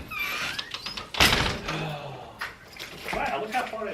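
An older household refrigerator door swings shut with a single loud thunk near the middle, with a voice speaking around it.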